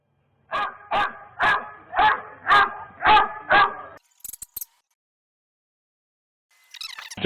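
A dog barks seven times in a steady, loud sequence, followed by brief faint rustling and then near silence.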